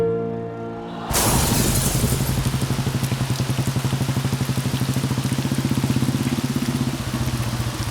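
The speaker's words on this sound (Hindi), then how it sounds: "अरे यार कितनी बारिश आ रही है, मैं तो पूरा भीग गया।" A sudden, loud downpour of heavy rain starts after a moment of quiet and keeps drumming steadily, with a low hum running underneath.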